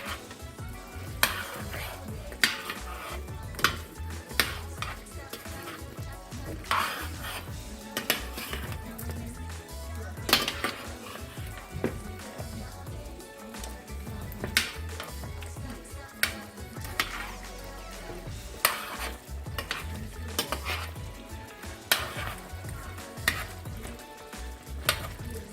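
Oxtail sizzles steadily in its own juices in a pot, with periodic clanks and scrapes of a spoon stirring and flipping the meat, close and alone.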